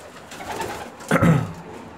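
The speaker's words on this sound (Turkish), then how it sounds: "Güzel kuşlar." Bulgarian pigeons coo in a coop, a soft rolling burst rising near the end over a low hum of background noise.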